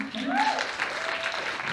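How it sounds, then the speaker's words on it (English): Audience applause during a college welcome speech, a short steady burst of clapping from a crowd with voices and a faint whistle-like tone mixed in. "Clap up for Miss Linda."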